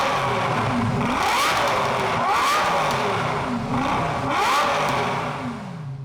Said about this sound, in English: let's take a listen to a little V10 wail, a couple of revs at idle